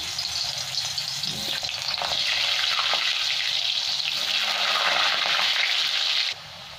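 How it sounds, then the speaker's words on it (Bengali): Halved potato pieces fry in hot oil in a kadai for a Bengali-style chicken curry, giving a loud, steady sizzle that swells partway through and then drops off abruptly at the end. "এখানে তেল আমার গরম হয়ে গেছে, এবার আমি আলুগুলো ভেজে নেবো"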